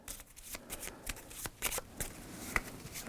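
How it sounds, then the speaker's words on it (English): A deck of scenic element cards for the board game Sine Tempore being shuffled by hand at close range, a string of quick riffling bursts and soft slaps in an irregular rhythm, quiet and with no voice over it. "I'll show you me shuffling here so you believe me."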